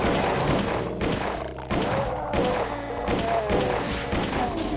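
Pistol gunfire in Doom 2 played with a modified pistol, a string of sharp shots fired every half second or so, loud and close over game sounds and music.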